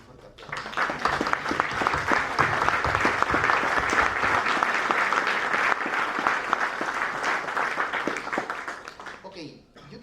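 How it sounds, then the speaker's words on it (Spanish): Sustained applause from an audience at a book presentation rises quickly, holds steady and dense for several seconds, then fades out near the end. "les pido un fuerte aplauso"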